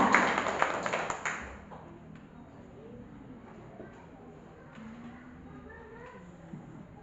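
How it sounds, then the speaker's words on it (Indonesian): A burst of clapping from a group at the start, fading quickly into quiet room ambience with faint voices. "Berikan tepuk tangan yang meriah untuk anak-anak kita"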